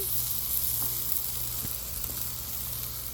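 Garlic bread sizzles on a Blackstone griddle with a steady, close, bright hiss and faint crackles throughout, and no voices.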